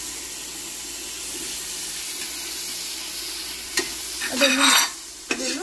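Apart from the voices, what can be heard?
adding chopped tomatoes to sizzling pan for chicken biriyani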